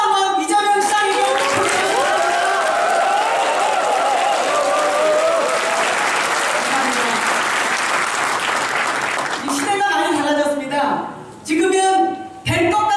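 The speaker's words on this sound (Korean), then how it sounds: "어제처럼 큰 박수 한번 이재명 시장님께" A large crowd of about twenty thousand applauds at an outdoor policy concert for a city mayor, a dense loud roar of clapping mixed with cheering and shouting, with speech over a sound system at the start and end.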